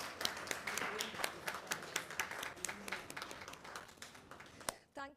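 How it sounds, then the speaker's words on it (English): Steady applause from an audience at a language and literature school's event, a dense patter of many hands clapping at moderate volume, tapering off near the end. "with a big round of applause to our moderator for today"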